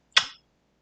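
A voice imitates a gorilla's smooching kiss with a single short, sharp smack, close and alone in silence.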